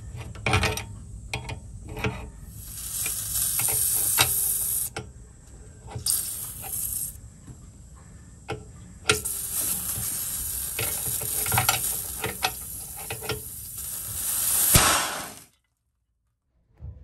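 Compressed air hisses out of a disconnected air compressor tank supply line, a loud, close, continuous rush with clicks and rattles, easing and surging over about fifteen seconds before cutting off into near silence.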